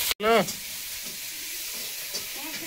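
Fish curry base of five-spice, turmeric, tomato and green chilli sizzling in a pan, a steady hiss after a brief sharp burst at the start, with faint background voices.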